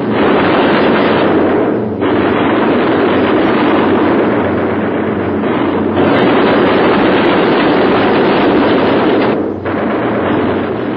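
Flak bursts and gunfire rumble around a damaged B-17 Flying Fortress bomber with an engine on fire in a wartime film, a loud, continuous roar with dense crackling and a few heavier thuds throughout.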